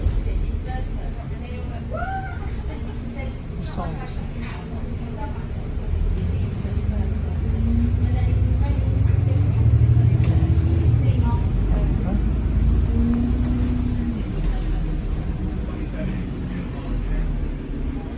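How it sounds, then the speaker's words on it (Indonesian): Steady engine rumble and road noise fill the upper deck of a double-decker bus, heard from inside as a continuous low drone that swells midway, with a brief spoken word early on. "Di dalam bis lur, lantai 2."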